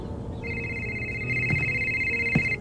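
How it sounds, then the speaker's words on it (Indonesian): A mobile phone rings in a tense night-time scene of a psychopath thriller film, giving a steady electronic ring tone that sounds continuously over a low background. "dikejutkan dengan suara ponsel yang berdering"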